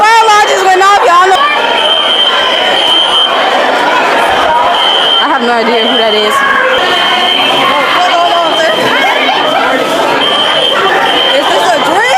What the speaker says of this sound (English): The fire alarm just went off, y'all.